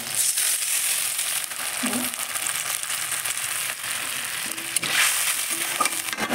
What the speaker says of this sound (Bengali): ওই তেলের মধ্যেই শুকনো লঙ্কা ফোড়ন দিয়ে দেবো, দিয়ে পেঁয়াজ কুচি দিয়ে দেবো